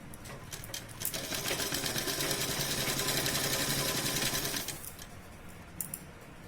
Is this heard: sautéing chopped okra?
no